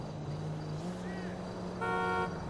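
A Mercedes-Benz 1113 truck horn in GTA V blares in a short honk over a low engine rumble and game background noise, fairly close.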